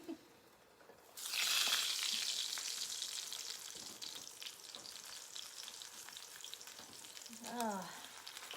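Bacon frying on a kerosene lamp stove starts with a sudden loud sizzle, then settles into a steady crackling hiss with occasional pops, close by and with no talk over it.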